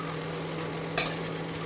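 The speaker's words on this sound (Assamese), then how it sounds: "এতিয়া পানীৰ পৰা মটৰ আৰু ৰাজমাহখিনি টুকি লৈ ইয়াত অলপ সময় ভাজিম।" Potatoes, peas and kidney beans frying in a pan, a continuous soft sizzle with one brief stirring scrape, close and alone.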